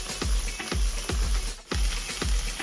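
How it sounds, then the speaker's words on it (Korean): Tofu frying in cooking oil in a pan, with loud, close sizzling and crackling that swells in regular pulses about every half second, nobody talking. "식용유 두르고요. 두부부터 먼저 꾸을게요"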